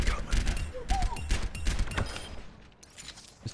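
Rapid Soldier 76 rifle fire in Overwatch, with short bursts and single cracking shots repeating close and loud over about three seconds, thinning out near the end.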